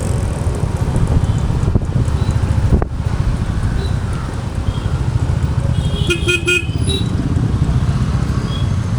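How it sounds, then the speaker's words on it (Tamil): Heavy street traffic on a Chennai road during a motorcycle ride, a constant engine and wind roar with a burst of short repeated car horn toots partway through. "ரீசெண்ட் டைமில் பயங்கரமாக டிராஃபிக் வருது."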